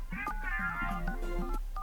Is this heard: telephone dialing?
yes